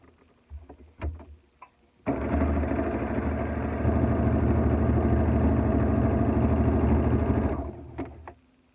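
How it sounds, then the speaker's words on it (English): Sewing machine stitching a seam along the edge of a fabric mask, a loud steady mechanical whirr running unbroken for several seconds after a few faint handling clicks, then stopping. "I'm going to make a seam right down the edge of this."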